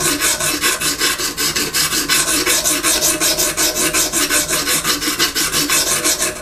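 A knife blade is drawn repeatedly across an oiled stone in a guided sharpening kit. The rasping strokes are close, loud and even, about three to four a second, with no talk.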